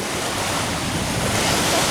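Ocean surf at Doheny State Beach, near a jetty, as a steady broadband wash of breaking waves that fills the whole stretch, with some wind rumble on the microphone.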